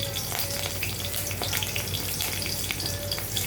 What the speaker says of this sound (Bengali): এবার ওই তেলের মধ্যে আমি কয়েকটা কাঁচা লঙ্কা ফোড়ন দিয়ে দেবো